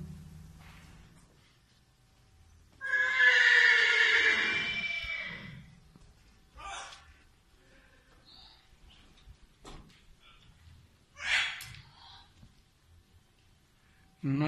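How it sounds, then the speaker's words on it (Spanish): Newborn pinto foal, a filly, gives a loud, clear whinny lasting a few seconds, followed by quieter rustling and a second shorter neigh near the end, with no talking. "Una hija del caballo pinto, recién nacida."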